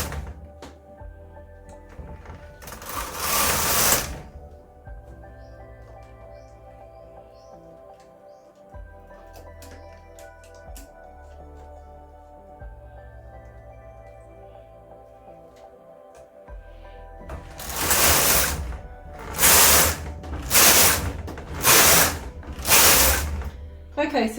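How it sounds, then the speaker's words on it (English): A Brother KH260 bulky knitting machine knits, its carriage making an early brief rasping sweep, then quieter mechanical hum and clicks, followed by several rhythmic, loud, close rasping passes at the end. "Okay, so that looks like it's knitting nice."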